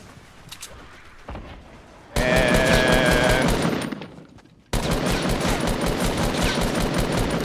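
Rapid gunfire from Fortnite weapons in a Battle Royale Blitz match, dense bursts of shots filling the later seconds after a quieter stretch, loud and continuous.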